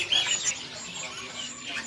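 Young magpie robins chirp at a bird market in Indonesia, a dense busy chatter of high calls layered over crowd noise.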